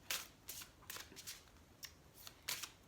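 Oracle cards are handled and drawn, giving soft, faint papery riffles and flicks in quick, irregular bursts at close range.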